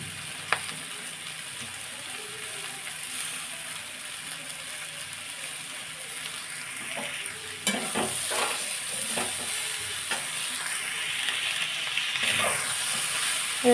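Leafy greens with mixed vegetables hiss and sizzle in a frying pan. Stirring grows busier partway through, with repeated scrapes and light clatters over the steady frying, and no voices are heard.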